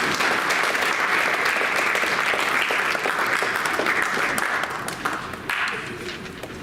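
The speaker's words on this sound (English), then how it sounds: "Let's have a nice round of applause" A school board meeting audience gives a steady round of applause, dense overlapping clapping that stays loud throughout and tapers slightly near the end, with little talk over it.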